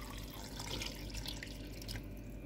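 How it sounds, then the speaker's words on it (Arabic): Water is poured into a Moulinex Cookeo pot while cooking, a steady close trickle and splash that carries on through the whole stretch. "نزيد شويه الماء باش تطيب"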